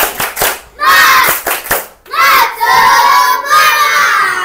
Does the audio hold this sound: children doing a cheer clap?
yes